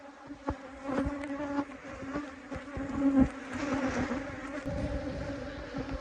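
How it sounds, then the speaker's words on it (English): Honeybee swarm buzzing around a hive, a dense continuous drone of many wings with individual bees zipping close past, steady and fairly loud outdoors. "That's a swarm I caught."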